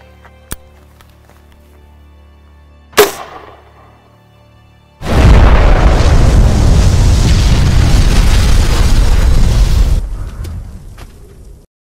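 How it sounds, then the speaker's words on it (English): A 40mm grenade launcher round detonates after a couple of sharp reports, unleashing a loud, sustained roaring blast with deep rumble that holds for about five seconds before abruptly cutting off and fading. "I know that was a huge explosion"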